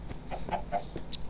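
Chicken clucking in Minecraft, a few short, soft clucks in quick succession, close and clear against a quiet background.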